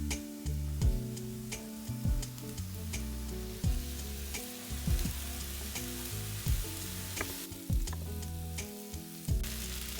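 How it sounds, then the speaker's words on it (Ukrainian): Onions added to browned champignon mushrooms sizzle loudly in a frying pan, a continuous close hiss broken by regular stirring knocks and scrapes, with no speech. "Коли вже наші шампіньйони досягнули такої легкої рум'яності, відправляємо сюди цибулю"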